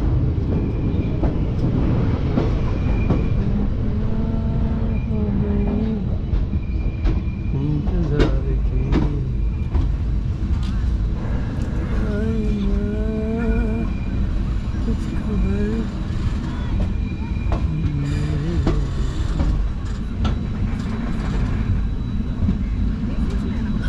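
Haldibari–Kolkata 12364 tri-weekly express train hauled by an electric locomotive, heard from on board as a loud, steady rumble of wheels and carriage noise that runs through the whole stretch, with voices faintly in the background.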